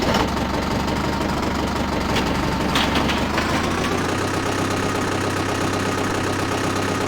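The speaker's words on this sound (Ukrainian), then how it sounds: "Сідаємо в наш комбайн. Ось так він запускається." A big diesel combine harvester engine in Farming Simulator 2009 starting and running with a rough, knocking idle, a deep steady rumble with clattering, close and loud throughout.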